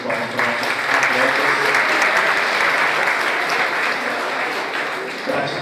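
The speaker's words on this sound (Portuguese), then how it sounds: "Salve de palmas para nossos" A live audience gives loud, sustained applause for CrossFit presenters at a university administration event, with the clapping holding steady for several seconds before tapering slightly.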